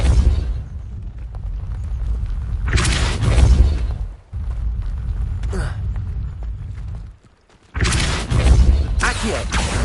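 Depulso force spells blasting in Hogwarts Legacy: loud, booming bursts with heavy low rumble, a few strong blasts separated by brief near-silent gaps, some whooshing tails and breathy effort sounds between them.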